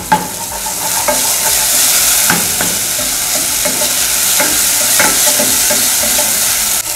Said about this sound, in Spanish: Agregamos una cucharada de ajo en pasta y sofreímos por un minuto más a fuego medio